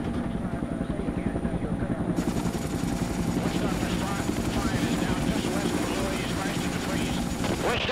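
Helicopters flying toward a landing zone at LZ Lolo during a Vietnam War mission produce a continuous dense rotor chop and engine drone, loud and steady, with radio-like voices talking over it.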